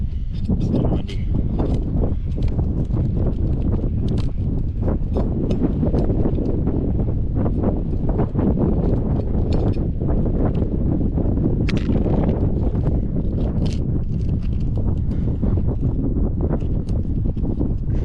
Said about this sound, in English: Hopefully I'm talking loud enough over the wind.